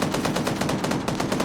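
Heavy .50 cal machine gun firing in a competitive shooter game match, a loud, rapid and unbroken burst of evenly spaced shots with no speech.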